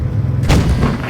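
A single tank cannon shot from World of Tanks Blitz, a loud sharp blast with a rumbling boom that fills the short moment, heard alone without talk.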